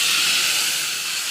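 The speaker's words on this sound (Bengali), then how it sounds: "এবার এই পেস্টটা দিয়ে দেবো।" A mustard, poppy seed and green chili paste hitting a hot pan with green chilies and nigella seeds, a loud hissing burst of steam that slowly eases off, close up.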